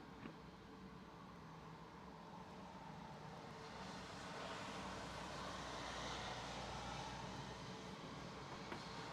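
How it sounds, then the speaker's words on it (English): United Airlines airliner engines spool up after pushback at London Heathrow as a steady, distant roar that gradually swells, with a broad rushing whine over low rumble. "This United Airlines push back and is going to start up right now."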